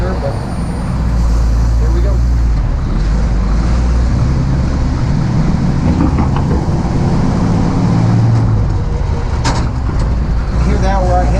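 An M-37 Power Wagon truck driving on a road, its loud, low engine drone rumbling continuously as the driver works through the gears, with a brief clunk of a shift, recorded from inside the cab.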